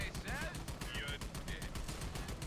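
Rapid gunfire rattles through a co-op shooter, Army of Two, in short bursts with a steady fast rhythm, mixed with game effects and a voice talking underneath.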